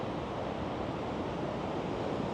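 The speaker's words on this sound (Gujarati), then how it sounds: "અહીંયા ધોધ પડી રહ્યો છે" Steady, broad rushing roar of Athabasca Falls in Jasper, Canada, fed by glacier meltwater, loud and continuous throughout with no voices.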